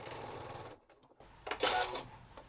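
A sewing machine stitches the corners of a weekend bag in short bursts, whirring up close and then stopping briefly before another quick clattering run.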